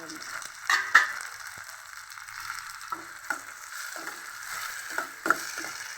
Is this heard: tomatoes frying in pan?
yes